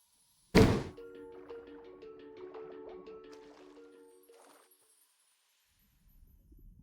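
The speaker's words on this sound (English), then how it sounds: "But the door closed behind us." A door shuts in the video game Sea of Stars with one sharp, heavy thunk, then a sustained tonal ringing that slowly fades over about four seconds, alone, without talk.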